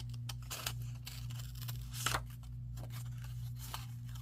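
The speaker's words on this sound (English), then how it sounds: "So we're just going to roughly cut him out here." Scissors snip roughly around a paper figure cut from a junk journal card, a series of quiet, irregular crisp cuts over a steady low hum.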